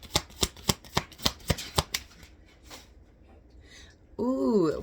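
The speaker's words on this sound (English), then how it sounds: "let's pull another card" Tarot cards shuffled in a rapid run of crisp riffled snaps, followed by quiet handling as a card is drawn, then a brief burst of louder rustling at the end.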